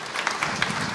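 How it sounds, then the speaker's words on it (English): Brief burst of audience applause at a gala event, many hands clapping together in a dense, steady patter. "you can give Don a big round of applause."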